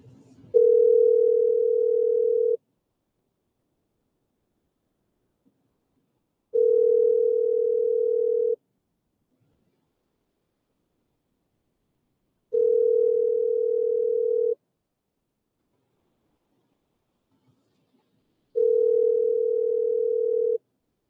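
Telephone ringing on an outgoing call heard through the handset: four long, even ring tones at a regular pace with silent gaps between them.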